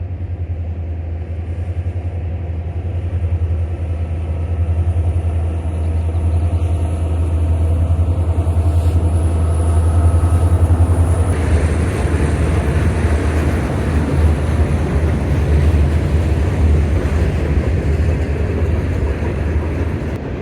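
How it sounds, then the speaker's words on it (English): A freight train led by two Union Pacific SD70ACE locomotives rumbles steadily through a small community, its deep diesel drone loud and continuous with rolling wheel noise building toward the middle. "Breaking the morning silence in this small community is a pair of Union Pacific SD70 ACEs with train"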